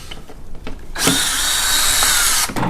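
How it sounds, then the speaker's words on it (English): A power drill backs T25 screws out of the plastic belly pan on a 2016-2018 VW Jetta 1.4L, with a few short taps before one loud, sustained high whir of about a second and a half that then stops. "These are T25 screws, and they'll drop around, so try to catch them."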